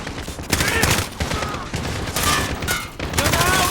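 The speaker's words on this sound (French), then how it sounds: "On doit neutraliser la mitrailleuse!" Machine gun fire rattles through a Call of Duty Modern Warfare campaign battle in loud, sustained bursts with short gaps, dense gunfire filling the scene.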